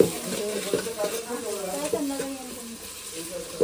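Chicken with turmeric stirred in a pan over an outdoor wood-fired clay stove, with a steady close sizzle and repeated scraping strokes of the spoon, while a voice talks over it.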